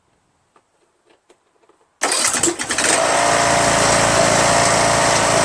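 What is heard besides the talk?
Troy Bilt lawn tractor Briggs 21HP Intek engine starting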